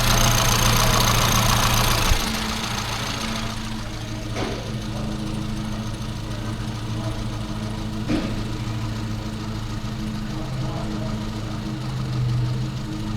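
A 998cc Mini engine idles during idle mixture tuning with a steady mid-pitched running note. A louder, rougher stretch in the first two seconds settles to an even idle, with faint clicks.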